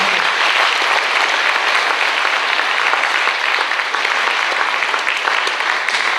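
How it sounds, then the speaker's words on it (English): A banquet audience gives regional track champions a loud, dense round of applause, with many hands clapping steadily and close by for several seconds. "So one round of applause for these regional."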